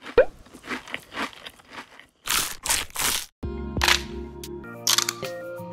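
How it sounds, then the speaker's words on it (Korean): Crisp crunching bites of KFC fried chicken used as movie sound effects, several loud close crunches and a camera-like click mixed with shorter rustling crackles, with no voices. "KFC 치킨을 먹을 때 나는 특유의 바삭거리는 소리"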